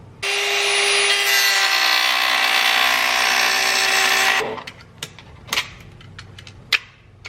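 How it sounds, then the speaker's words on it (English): A small Dremel rotary tool with a baby cutoff wheel cuts a straight line across a part on a dirt bike, giving a loud, steady high-pitched grinding whine that runs for about four seconds and then stops, leaving a few scattered clicks and taps. "So I'm just gonna get my Dremel and cut pretty straight line across there."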